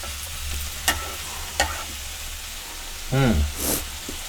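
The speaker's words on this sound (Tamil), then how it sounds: "இது கொஞ்சம் வதங்கட்டும்." Vegetables sautéing and being stirred in a pan, with a soft, steady sizzle, a couple of sharp spoon clicks against the pan and a brief voice near the end.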